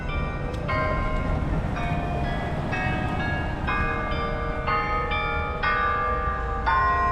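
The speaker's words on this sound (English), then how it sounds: "The beautiful church bells are at it." Church bells ring out over the historic streets of St. Augustine, Florida, a sequence of loud overlapping chimes that strike roughly every second against a low rumble of outdoor background noise.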